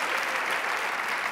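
Steady audience applause filling a room at a women's health conversation event, dense, even clapping throughout, with no voices.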